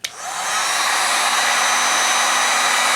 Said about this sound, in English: here's my heat gun